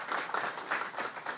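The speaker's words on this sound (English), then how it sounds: "How about a round of applause for our Attorney General?" An audience applauds the state Attorney General at a public event on opioid deaths, a brief burst of clapping heard at a moderate distance, fairly soft and uneven, with no voices over it.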